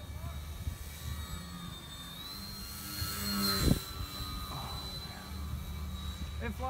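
A homemade RC jack-o'-lantern pumpkin plane flies overhead, its electric motor buzzing as a thin steady whine that swells into a brief loud whoosh as it passes close, then fades back to a faint drone.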